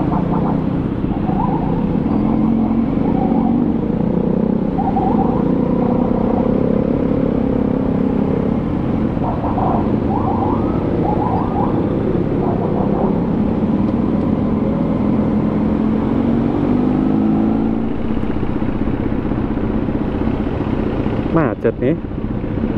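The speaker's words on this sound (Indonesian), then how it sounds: "Macet-macet, padahal ini jam 10." Friday-night traffic jam in Jakarta with cars and motorcycles idling and creeping, a continuous low engine rumble with occasional revs, heard from on a moving ride.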